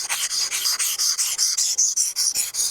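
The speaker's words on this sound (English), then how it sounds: "I'll start off with a low grit stone" A knife is pushed with firm pressure across a low grit sharpening stone, a close, steady rasping scrape in about a dozen even back-and-forth strokes.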